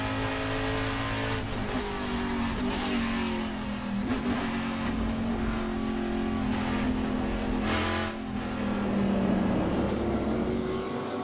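Trans Am race cars roar into turn one at Portland, engines revving loudly with rising and falling pitch as they pass close by, several cars bunched together in a continuous, intense drone.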